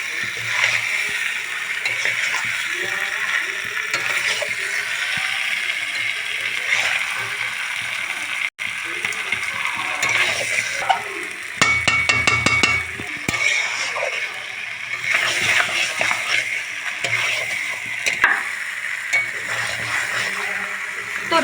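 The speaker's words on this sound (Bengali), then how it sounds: "খুব ভালো করে আমি কষিয়ে নেব মাটনটা" Mutton sautéed as kosha in a kadai, a loud, steady frying sizzle with repeated scraping and stirring strokes and a quick rattling run of spoon clatter near the middle, close up, with no voices.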